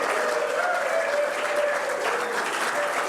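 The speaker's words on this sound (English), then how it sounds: "big round of applause" Sustained audience applause at an electric vehicle expo greeting a special guest, an even, continuous wash of clapping from a large crowd, heard alone at moderate loudness.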